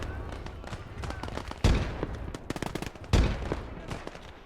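Grenades exploding in the World War II video game Gates of Hell: two heavy, booming blasts about a second and a half apart over continual crackling gunfire, with a voice talking faintly underneath.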